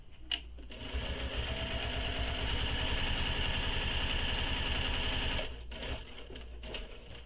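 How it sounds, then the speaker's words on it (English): A sewing machine stitches a bag, running steadily and close for several seconds before stopping, with a few soft clicks around the start and finish. "take a stitch, and do that all the way around all those corners"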